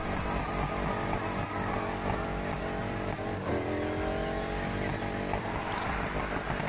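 Car engine revs continuously while drifting in a racing video game, with rising and falling pitch sweeps, loud and close throughout.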